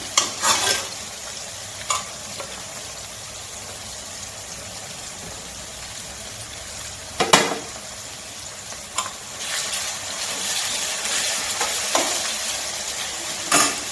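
Vegetable pieces frying in a pan for egg fried rice, a steady bright sizzle with sharp scrapes and clanks of stirring at irregular moments, close and fairly loud throughout.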